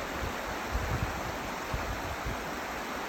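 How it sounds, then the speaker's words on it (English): The Selway River flows through a deep, rocky canyon of hard rock, a continuous, even rushing of water close by with no other sounds. "I reached the Selway River in 52 miles from Darby"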